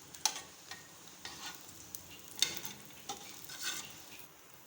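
Burger buns warm in a hot pan, giving a faint, soft sizzle broken by a few light scraping clicks from stirring or turning, close and quiet.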